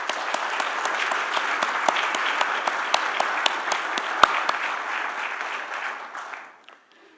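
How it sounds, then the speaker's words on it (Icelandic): An audience claps steadily and densely for about six seconds, a full, even wash of applause with a few sharper individual claps, before it thins out and fades to silence. "Mér langar til þess að þið með mér klappi fyrir þessum mannauði okkar."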